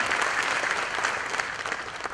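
An audience at a national seminar on the Indian Financial Code claps steadily in a hearty round of applause, a continuous close patter with no talk over it.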